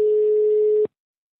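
A single steady electronic telephone tone, loud and close, holding for under a second before cutting off abruptly into silence.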